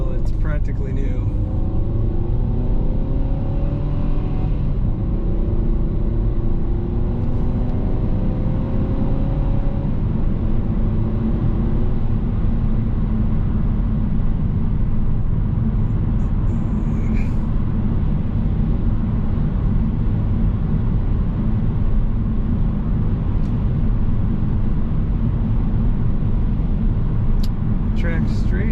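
Steady, loud cabin drone and road roar from a 2018 Ford Transit Connect Titanium passenger long-wheelbase van cruising at highway speed, continuous and even throughout.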